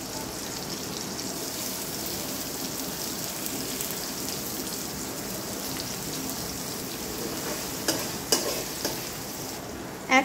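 Chopped onions frying in a spice tempering for daal tarka, a steady hiss and sizzle under occasional stirring, with a few sharp clinks of a utensil against the pan near the end; no talking.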